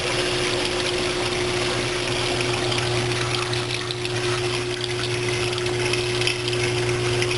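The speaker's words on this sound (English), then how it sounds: "Homemade auto top off unit." The pump of a homemade aquarium auto top-off unit runs with a steady motor hum and tonal drone under a continuous trickle and rush of moving water, constant and close with no talking.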